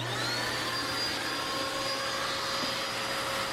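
Dirt Devil Razor Pet steerable bagless upright vacuum running with its crevice tool fitted: a steady, loud motor whine with a high suction hiss, close and continuous with no talk.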